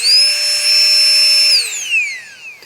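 A Flextail Tiny Pump 2X electric air pump runs with a loud, steady high-pitched whine, then winds down with a falling pitch as it shuts off.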